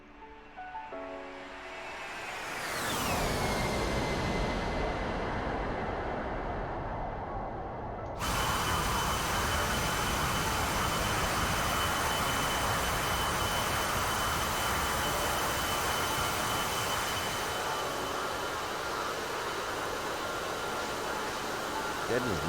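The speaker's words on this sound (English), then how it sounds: "Do a really cool flyby." An A-10C jet in the DCS flight game makes a loud, continuous roar that opens with a falling whine, then swells into a sustained broadband rush of engine noise that persists steadily throughout.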